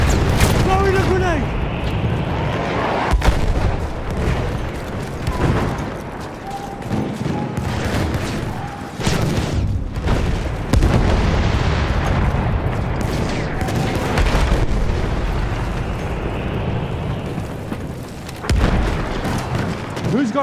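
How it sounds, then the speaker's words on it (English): Battle din from Battlefield 1, with a grenade blast among near-constant gunfire and booming explosions, loud throughout alongside shouted voices. "Throwing a grenade!"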